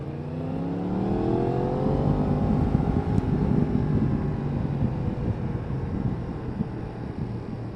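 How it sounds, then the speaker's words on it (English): A 2019 Yamaha MT10 motorcycle engine revs and pulls hard, a steady loud engine drone with rising and falling harmonics, wrapped in rushing wind noise throughout. "you're going to start doing things you maybe shouldn't really do just to hear the engine note when it winds up"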